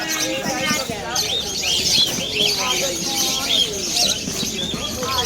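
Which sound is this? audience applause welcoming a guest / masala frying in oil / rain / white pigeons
white pigeons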